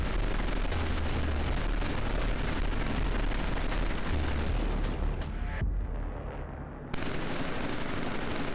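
Machine gun fire from the hip in the video game Killzone 3 rattles out in sustained, loud bursts that fill the whole stretch, with a brief drop before the firing resumes.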